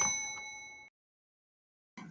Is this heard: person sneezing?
no